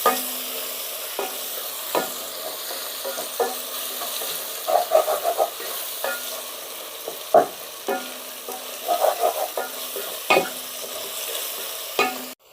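Ingredients for chicken biryani sauté in a pan, a steady sizzle broken by repeated scraping stirs and clinks of a spoon at close range, with no talking.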